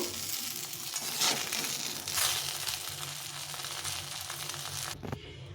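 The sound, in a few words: eggplant frying in mustard oil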